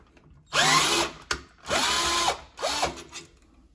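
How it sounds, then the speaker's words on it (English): A power drill backs screws out of a refrigerator's rear panel in three close, loud whirring bursts, each winding up and down in pitch, with brief clicks and pauses between them. "we got to take all those screws out so that we can take this panel off"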